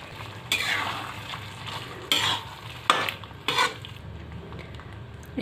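Raw banana curry with tomato sauce fries in a pan while a spoon stirs it, giving a soft sizzle broken by four distinct scraping strokes against the metal.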